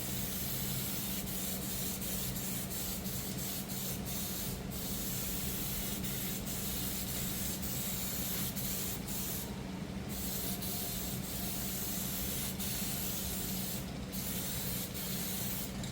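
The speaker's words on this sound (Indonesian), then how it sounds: "Untuk penyemprotan di lapis kedua ini kita semprot sampai terlihat agak" A paint spray gun lays a second, wet-looking clear coat over moonlight violet paint applied without grey primer, giving a steady, close, continuous airy hiss for the whole stretch with slight bursts and no talking.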